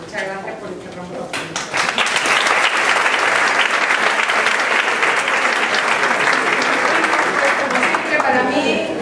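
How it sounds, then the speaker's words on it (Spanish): A lecture-hall audience breaks into sustained applause, many hands clapping in a loud, dense wash that builds quickly after a brief spoken lead-in and holds steady to the end, with a voice faintly audible at the start. "el aplauso es para vosotros"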